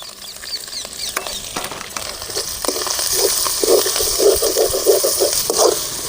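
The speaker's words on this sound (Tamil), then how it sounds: "வெங்காயம் நல்லா செவக்க வதங்கிடுச்சு" Chopped onions fry in hot oil for tomato kurma, a soft continuous sizzle and crackle with light stirring scrapes, growing slightly louder toward the end.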